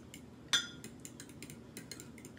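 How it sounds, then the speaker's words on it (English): Eggs and seasoned milk stirred in a bowl for dipping corn on the cob and wing dings, heard as one sharp clink of utensil on the bowl followed by soft, faint scraping and tapping, with no voices. "we stir our eggs up"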